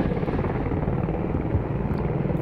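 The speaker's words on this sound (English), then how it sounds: "Chopper might go down here." Helicopter in the tactical shooter Squad, a steady loud rotor drone with dense low thumping that fills the whole stretch, with no talk over it.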